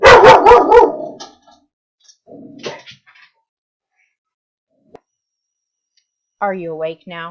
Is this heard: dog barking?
yes